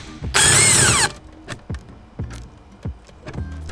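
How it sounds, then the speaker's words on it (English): An impact or power tool spins off the 17 mm steering wheel bolt on a BMW F30 335i, one loud whirring burst of under a second, followed by a few scattered clunks and taps of the wheel being handled. "17 mil for the steering wheel bolt"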